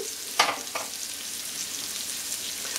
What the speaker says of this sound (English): now I just add everything else back into the pan. There goes the bacon